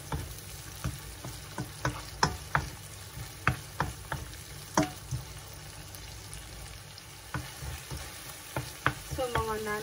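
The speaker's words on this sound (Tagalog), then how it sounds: "So, i-mix lang din natin hanggang maluto ang kamatis." Tomatoes frying in a pan for seafood pasta, stirred with a utensil: soft continuous sizzling under a series of irregular scraping and clinking stirs, fairly quiet and close.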